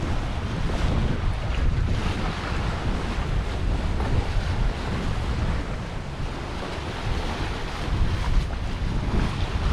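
A sailboat under way off the Canary Islands near Las Palmas and Tenerife, with continuous broadband rush of wind and waves washing past the hull, steady and loud throughout with heavy wind buffeting on the microphone.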